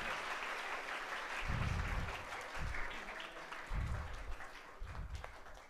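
Audience applause at an Islamic religious gathering in Indonesia, a fairly faint, steady patter of many hands clapping with rhythmic low thumps rising and falling, no speech over it.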